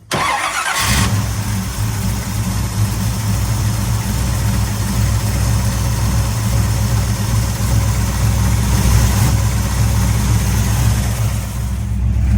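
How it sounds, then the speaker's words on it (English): A 1968 Camaro SS big-block V8 with a freshly adjusted carburetor cranks briefly, fires and settles into a loud, rumbling idle that holds steady and close, with a brief rev partway through. "start it up, Denny."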